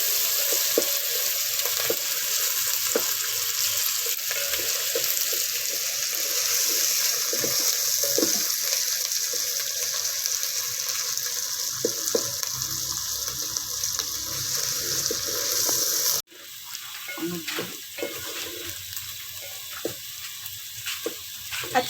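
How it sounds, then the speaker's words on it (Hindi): Garlic and ginger sizzle steadily in a hot pan while cooking aloo keema, a continuous loud frying hiss that cuts off sharply near the end, followed by quieter clinks and scraping. "तकरीबन हमने 2-3 मिनट इसको भूनना है।"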